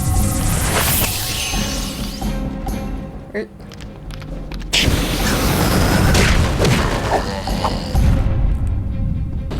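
Spyro shoots fireballs in The Legend of Spyro: The Eternal Night, several loud whooshing bursts and booms amid busy battle sounds, with a voice talking over the action.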